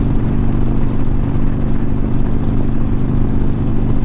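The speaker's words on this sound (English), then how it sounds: "while I'm riding my bike." A motorcycle is ridden at a steady pace, its engine a loud, continuous rumble heard close up with wind noise mixed in and no speech.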